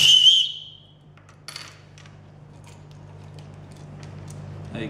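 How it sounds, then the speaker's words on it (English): A short, shrill blast from a small emergency tornado whistle at the start, followed by faint clicks and a low steady hum. "tornado whistle."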